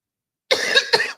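A single close, sharp cough bursts out after a moment of silence, followed by a second harsher hack.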